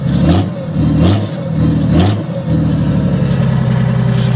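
A Mercedes OM606 turbo diesel engine revs up repeatedly, three quick throttle blips rising and falling close by, then settles into a steady loud idle.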